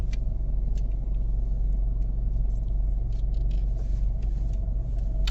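A Mr Magic Automagic automatic car wash runs at Suds City in Albury, NSW, a steady loud machine rumble with faint intermittent hissing spray, no talk.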